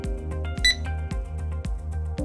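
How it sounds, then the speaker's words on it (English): An Easy Way Smart metal detector beeps as it captures an image, giving a bright electronic chime over repeating rhythmic pulsing tones, close and clear with no voice. "the device will automatically capture an image alongside a beep sound"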